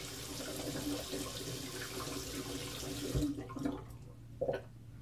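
Tap water runs steadily into a bathroom sink while someone rinses off shaving cream, with a few soft splashes from hands and face toward the end, no talking.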